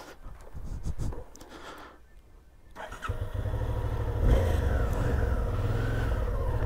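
A dirt-trail motorcycle sputters and cuts out, then a short quiet gap follows before the engine catches again and settles into a loud, steady idle with a brief rev swell near the middle.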